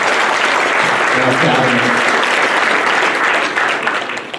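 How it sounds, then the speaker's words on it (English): Loud, dense applause from a school district audience fills the hall throughout, honoring the board at a 2018 State of the District address, with a voice speaking briefly over the clapping before it begins to fade at the end. "I want to give a round of applause for our board"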